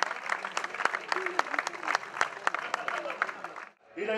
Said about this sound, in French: Merci de l'applaudir encore plus fort.